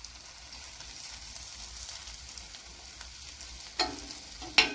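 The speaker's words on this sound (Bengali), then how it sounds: "এবার এর মধ্যে এই টমেটো সসটাকে ভালো করে দিয়ে দেব।" An egg omelette sizzles softly in a pan as tomato sauce goes in, a low continuous frying hiss with a few small clinks and taps near the end.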